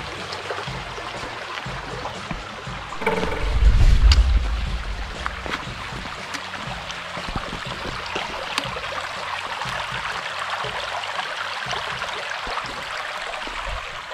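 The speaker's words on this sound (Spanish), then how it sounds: "Mucho arroyo." A flowing stream on a forest hiking trail of the Camino del Norte burbles and rushes steadily, with a louder, closer splash and rumble of water around the crossing early on before settling into a continuous trickle.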